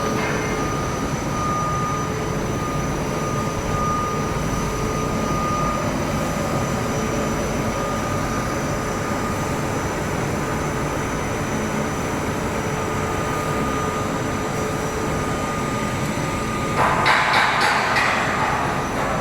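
A two-layer plastic film extruder runs steadily, a loud continuous mechanical hum with a steady tone that holds for the whole stretch, with a brief brighter burst of noise near the end.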